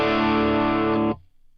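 A sustained electric guitar chord played dry through an amp and cabinet model with no reverb, a distorted tone that rings loudly for about a second and then cuts off abruptly with no tail.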